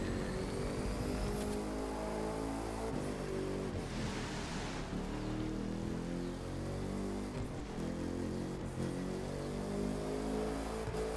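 A Devel car in The Crew 2 racing game, a continuous loud engine drone with rising revs and a burst of tyre hiss midway as it drifts through switchback turns.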